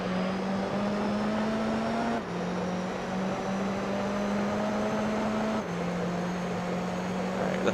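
Racing car engine in Gran Turismo Concept 2002, a steady loud drone that climbs in pitch through each gear, with two brief drops at upshifts, then pulls again, continuous and close throughout.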